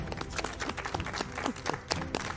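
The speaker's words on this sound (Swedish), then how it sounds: "En applåd för oss." A small audience claps together after a Swedish reality-show reaction stream wraps up, the hand claps dense and irregular with a bit of crowd noise, fairly close and steady for a couple of seconds.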